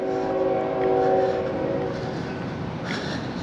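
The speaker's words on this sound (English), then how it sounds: "Good little train coming along the side of the park." A train runs along the edge of a park, a steady rumble with a tonal whine that fades as it passes, heard outdoors among wind noise with no voices.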